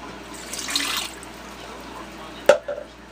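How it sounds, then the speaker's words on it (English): Cup of water poured into pumpkin bread batter in a mixing bowl: a soft, brief splashing pour up close, then a sharp knock a moment later in an otherwise quiet kitchen. "1 cup of water, which I put"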